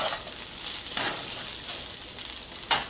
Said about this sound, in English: Keep heating up the pork while stirring it around in that oil, getting it nice and warm.